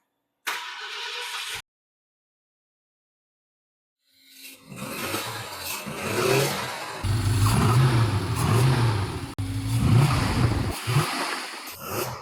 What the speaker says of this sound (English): Go ahead, fire up the car.